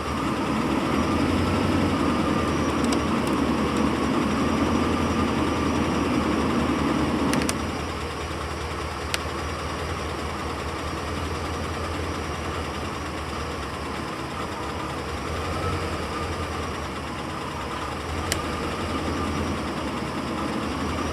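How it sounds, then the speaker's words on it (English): A car's fan blower motor runs steadily, a continuous whirring hum that steps down to a quieter, lower level partway through, with a few faint clicks from switching speeds. "You can also do the same thing on the fan blower motor."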